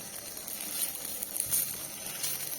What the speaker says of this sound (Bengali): এই অবস্থায় আঁচটা একদম লো টু মিডিয়াম আঁচে রেখে ভাজতে হবে